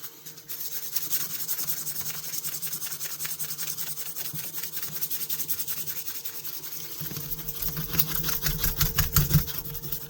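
Hand polishing a salvaged camper knife blade on 7000 grit, a steady rhythmic rubbing and sanding scrape of repeated strokes that grows louder and coarser toward the end, with no talking.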